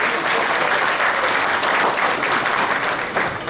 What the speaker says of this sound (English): Let's give her a round of applause for at least standing up here trying.